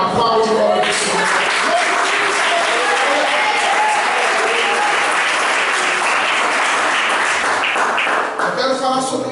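Congregation at a church service applauding together, a dense, loud and steady wash of clapping sustained throughout, voices faintly mixed in near the end.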